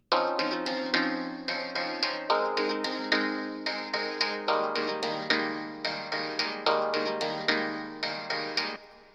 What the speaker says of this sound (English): I actually created that sound purely out of vinyl crackle noise.